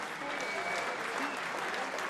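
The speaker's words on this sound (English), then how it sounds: "Round of applause for both of our fighters" Sustained applause from a crowd for two fighters after a main event fight, steady and dense clapping throughout with no pauses.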